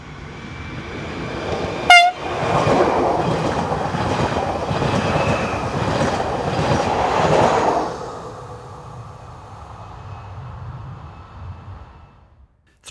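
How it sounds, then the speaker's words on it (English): A Regiolis Class B83500 electric train unit departs north toward Strasbourg, giving a short horn toot followed by a rolling rumble with rhythmic clatter that fades after several seconds. "Regiolis Class B83500 unit number 571 departs north with a train for Strasbourg"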